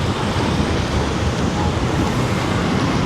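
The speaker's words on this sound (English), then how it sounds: "the wind is very strong today" Strong wind blows into the microphone on a downtown walk through Rahway, a continuous loud, close rumbling roar with no gaps and no clear talking.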